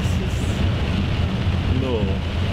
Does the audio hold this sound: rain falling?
yes